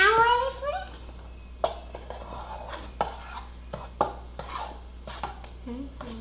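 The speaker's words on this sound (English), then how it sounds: "Let's stir a little bit more." A spoon stirs muffin batter in a bowl, making a series of distinct close knocks and scrapes at irregular intervals, with a voice and soft talk at the start.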